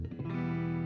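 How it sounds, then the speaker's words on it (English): A Harley Benton electric guitar played through a Twin Reverb amp with added reverb, a single strummed chord that rings out loud and sustained after a brief pick attack. "So right now I'm running through a twin reverb"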